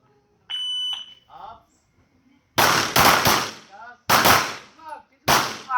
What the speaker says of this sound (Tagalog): upon beep, target 1, target 2, change mark, bridge reload